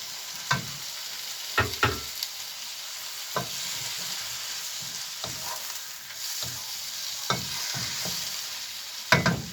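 Tomato pulp goes into a hot frying pan for a potato and egg dish, giving a continuous sizzle broken by several sharp scraping and clattering stirs of a utensil against the pan.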